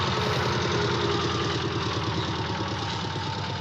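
Tractor engine idling in a 1960 film, a steady close mechanical rumble with an even chugging pulse and no break.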